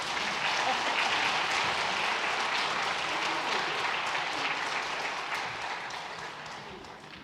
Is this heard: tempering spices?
no